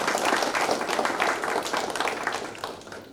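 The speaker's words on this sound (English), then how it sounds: "Please give him a applause." A meetup audience applauds a speaker being introduced, with dense, continuous clapping from many hands. It sounds fairly close and full at the start, then gradually thins and softens over about three seconds, with no talk.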